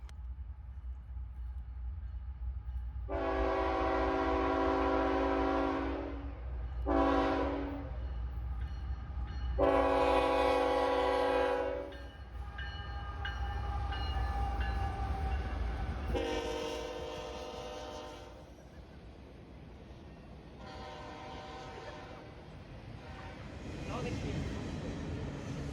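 Freight trains pass the Folkston railfan site, sounding long, loud multi-tone horn blasts several times over a continuous low rumble of rolling cars, with voices faintly mixed in.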